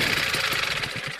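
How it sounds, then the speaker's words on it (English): A paramotor engine runs steadily, close and loud, with a buzzing, slightly uneven two-stroke drone and no voices. "what's wrong with this engine?"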